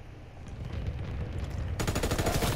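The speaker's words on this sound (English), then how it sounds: "Flak bursts commenced. Targeting enemy aircraft." Anti-aircraft flak fire in Call of Duty WWII starts as a muffled rumble of rapid bursts, then turns into a loud, dense, fast run of close cannon shots.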